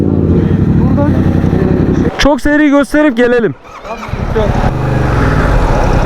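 Motorcycle ridden beneath a minaret in a dense crowd in Diyarbakır, its engine droning steadily up close while someone speaks over it and a short burst of other voices cuts in partway through.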